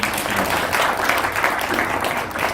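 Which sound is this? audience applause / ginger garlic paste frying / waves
audience applause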